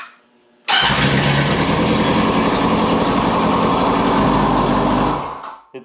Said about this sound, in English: It's still on the fast idle until it warms up.